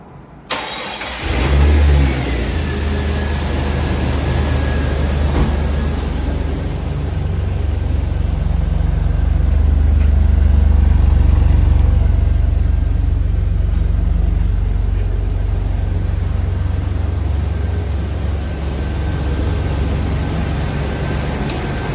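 A 2000 Jeep Wrangler Sahara four-door with 25k miles and not yet run today cranks and starts, then settles into a steady loud idle with a slight swell midway, heard close with no talking.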